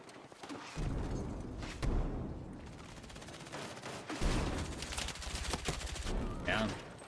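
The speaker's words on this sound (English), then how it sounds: "just shooting a guy in his fucking face" Gunfire in the video game Battlefield 6 comes as dense bursts of rapid automatic shots with heavy low thumps, loud and sustained for several seconds, with a voice talking over part of it.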